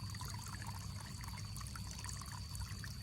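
Water from a solar-powered bore pump flows into a flooded rice field of young seedlings, a steady trickling and splashing pour that runs continuously and fairly close under a constant low hum.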